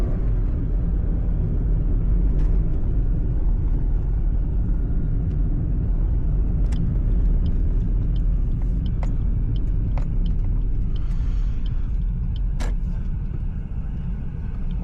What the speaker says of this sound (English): If I need an extra power, like so, I rev the engine more.